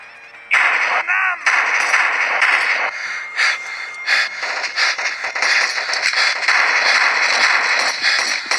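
Gunfire in the mobile game Modern Combat Sandstorm, with rapid bursts of shots crackling loudly and repeatedly over the battle noise.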